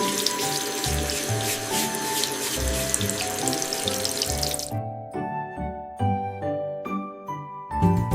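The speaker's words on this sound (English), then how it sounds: "I am washing." Water runs from a tap into a sink during washing, a steady close splash that changes midway to a clearer, more tinkling flow with shifting bursts.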